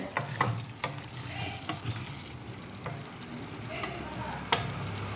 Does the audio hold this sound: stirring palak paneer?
yes